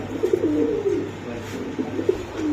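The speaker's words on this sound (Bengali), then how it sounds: "এটা কি কবুতর ভাই এটা ব্ল্যাক কবুতর" Black pigeons cooing nearby in soft, repeated low rolling calls over a faint background hum.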